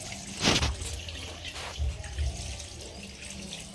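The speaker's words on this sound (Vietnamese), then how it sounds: "mình sẽ rửa mắm nha mọi người, mình sẽ rửa rồi mình mới dắt, mình rửa đừng cho nó tanh" Small fish (lòng tong) are rinsed under a running kitchen tap for making fermented fish paste, giving a close, steady gush of water with a few louder splashes as the fish are handled in the stream.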